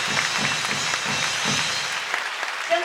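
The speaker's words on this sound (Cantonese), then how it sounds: "但係我哋照俾啲掌聲佢" A theatre audience at a closing performance applauds for the absent lighting designer, a dense, even round of clapping that carries on steadily, then thins toward the end as a voice starts up.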